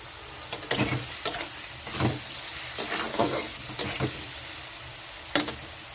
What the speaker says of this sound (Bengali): একটু ভেজে নিতে হবে আলুটা হালকা ভাজা হয়ে গেছে